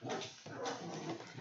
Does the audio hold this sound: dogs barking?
yes